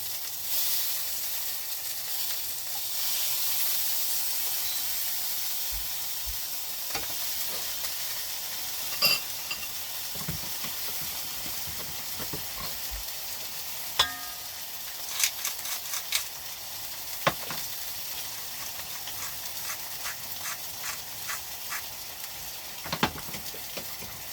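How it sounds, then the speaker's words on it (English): Sausage fries in a pan with a steady, loud sizzle throughout. Occasional sharp clicks and scrapes sound as the links are turned. "We keep turning the sausage just to get some colour on all the sides."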